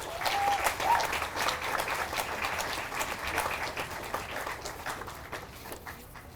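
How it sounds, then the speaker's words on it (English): An audience at a police department memorial service breaks into applause, a dense burst of clapping that gradually thins out as it fades. "So give him a round of applause."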